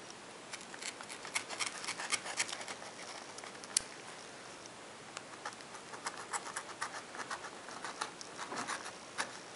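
Scissors cut paper for a story cube: a close, steady run of crisp snips and rustles with no talking.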